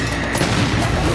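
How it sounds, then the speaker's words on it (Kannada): Sodium thrown into a farm pond at a farm in Tumakuru blasts with a loud, close burst of crackling booms filling the whole brief moment, with no voices. "ತುಮಕೂರಿನ ರಾಯರ ಬೃಂದಾವನ ಫಾರಂನ ಕೃಷಿ ಹೊಂಡದಲ್ಲಿ ಡ್ರೋನ್ ಪ್ರತಾಪ್ ಸೋಡಿಯಂ ಹಾಕಿ ಬ್ಲಾಸ್ಟ್ ಮಾಡಿದ್ದ."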